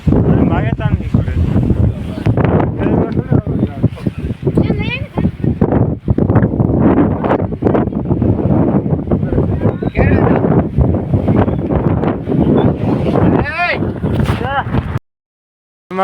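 Strong stormy wind with rain buffets the microphone in loud, continuous roaring gusts while someone speaks over it, ending in a brief silence near the close.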